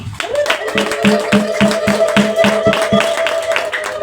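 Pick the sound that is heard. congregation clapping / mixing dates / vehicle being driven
congregation clapping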